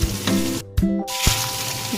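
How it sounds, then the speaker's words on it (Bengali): Onions, chopped chillies, cloves, cardamom and cinnamon fry in hot oil, giving a loud, close sizzle broken by a short gap and bursts of stirring. "এর মধ্যে লঙ্কা, লং, এলাচ, দারচিনি ফোড়ন দিলাম, পেঁয়াজ আর কটা কুচানো লঙ্কা দিলাম"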